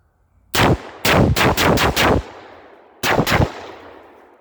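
AR-15 semi-automatic rifle firing: a single loud shot, then five quick shots in a rapid string, a pause, and two more, each sharp and close with a trailing echo.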